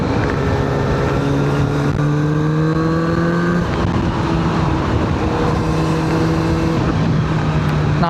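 A Kawasaki Z900RS motorcycle fitted with an aftermarket exhaust rides on the North Luzon Expressway, its engine droning loud and steady throughout, with the pitch rising and dropping through gear changes under heavy wind rush.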